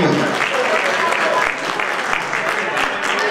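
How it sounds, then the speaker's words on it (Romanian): Audience applause at an event honouring a sponsor, a dense, steady clapping from a crowd in a hall lasting the whole moment. "dacă nu, îi vom mâna în echipa și îl aplaudăm totuși"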